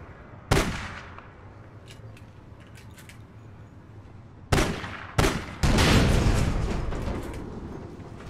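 Gunfire in the online shooter APB Reloaded: a steady bed of game ambience broken by several sharp shots, a single report early, then a cluster of three heavy bursts toward the end with lingering rumble.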